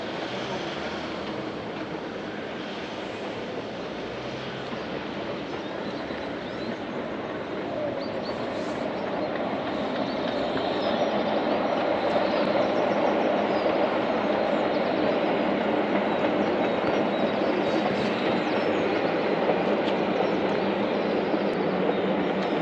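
A steam train, the Hogwarts Express, approaches as a broad, steady rumble and roar that grows louder partway through and then holds, with no voices over it.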